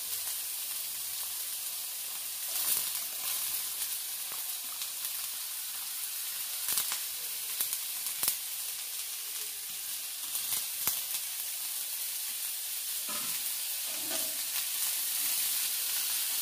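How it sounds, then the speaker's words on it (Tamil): Onion and green chilli sautéing in a pan, a continuous soft hiss of frying oil broken by scattered stirring scrapes and taps. "அதிலே அந்த பச்சை மிளகாவும் சேர்த்து வதக்கிக்கிறேன்"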